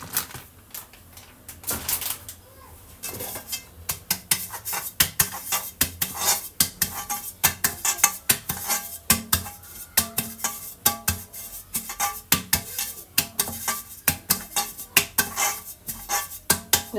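A greased cake pan being dusted with flour, repeated sharp metallic taps and knocks in a quick irregular rhythm, close and with no talk.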